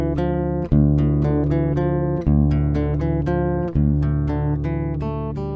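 Acoustic guitar with its low open string tuned down to drop D, strummed chords ringing out with a deep sustained bass note, restruck about every second and a half, close and full, no voices.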